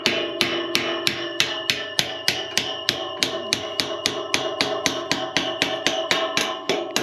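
Steady hammer taps ring out one after another at an even pace, loud and close, each strike sharp with a metallic ring, continuing throughout, during a ranch corral rebuild.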